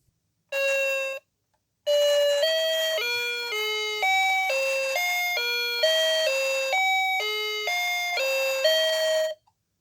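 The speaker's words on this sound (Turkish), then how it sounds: "Hayır zil çaldı" A loud electronic school bell chimes a short tone, pauses, then rings a long series of stepped melodic tones, sounding alone and close.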